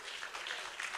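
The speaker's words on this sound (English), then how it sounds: "Please, can we give him another round of applause?" Steady, dense applause from an audience at a World Data Privacy Day event, a continuous wash of clapping heard at a distance, faint and unbroken.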